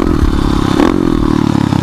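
A pit bike engine revs hard and close, its loud mid-pitched roar rising in a sustained burst with clattery mechanical noise, and no voices.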